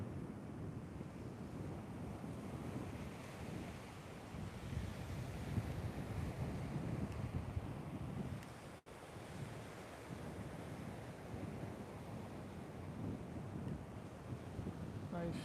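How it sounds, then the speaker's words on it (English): Strong wind buffets the microphone on Sam Roi Yot beach in Thailand with a continuous roaring rumble and gusty rushing, with surf blended in. It is loud throughout and has a brief dropout partway through. "It is windy today, guys."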